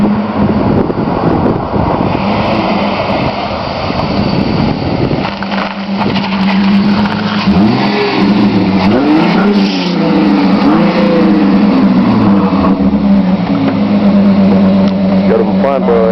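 A 1999 Chrysler 300M with a Flowmaster exhaust, its engine droning loudly nearby and rising and falling through several revs, with people talking over it at times.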